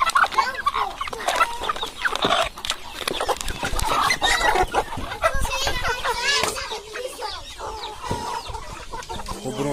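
Roosters and hens of a giant breed, some with feathered feet, cluck and squawk continuously at close range in a farm yard, with busy overlapping calls throughout and a few brief sharper cries.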